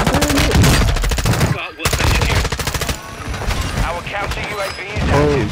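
Gunfire from an M4 rifle rattles in Call of Duty Warzone. Long, loud, close bursts of rapid automatic fire overlap with other shots, and players shout over the fighting.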